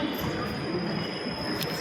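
A Hyderabad metro train arriving at a station, a steady rumble of carriages with a thin high whine and brief squeal over it, moderately distant and continuous.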